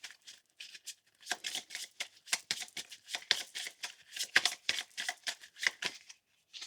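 A deck of tarot cards is shuffled by hand in quick, crisp riffling bursts that repeat in an irregular rhythm, close and clear with no voices.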